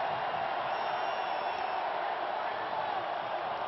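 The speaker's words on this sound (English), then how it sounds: "Crowd is cheering, trying to." A college football stadium crowd at Oklahoma versus Texas Tech in 2000 cheering in a steady, distant roar that holds at an even level without breaks.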